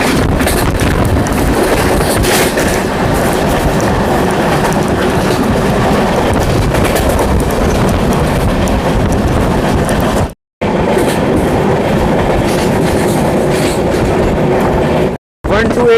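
Amrit Bharat Express train running between Brahmapur and Udhna, heard from on board as a loud, continuous rumble of wheels on rails with wind roar, broken by two brief dropouts.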